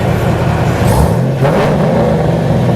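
2011 Chevrolet Camaro SS engine revving up close, a loud, rough rumble that rises and falls in pitch over a few seconds.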